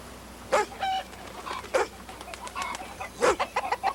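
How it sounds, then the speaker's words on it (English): Chickens cluck and squawk in short bursts at moderate distance, a few calls spaced through the moment with quiet yard ambience between them. "Don't you scare those chickens, Dooley."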